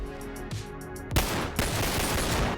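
A modded pistol fires in the VR game BONELAB: a few separate shots ring out, then a loud, dense burst of rapid gunfire crackles close and alone for the rest of the moment.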